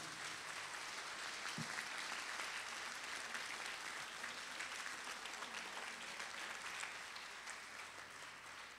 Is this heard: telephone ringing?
no